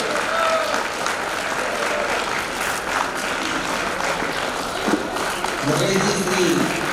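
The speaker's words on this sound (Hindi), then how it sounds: "जोरदार तालियां निवेदन है आप सभी लोगों से।" Audience applause rises and holds steadily at a public gathering welcoming a guest, dense clapping from a crowd with voices heard over and among it.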